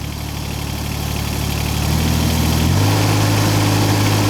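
Engine of a rental digging machine rising from a steady idle to higher throttle, a loud, close diesel drone whose pitch steps up partway through, with no talking.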